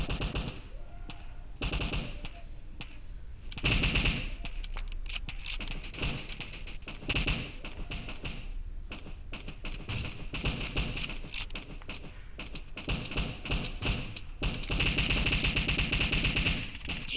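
Automatic weapon fire in PUBG Mobile, a battle-royale shooter game: sustained rapid bursts of gunshots, dense and loud, with a few short pauses between volleys and heavier bursts near the start and end.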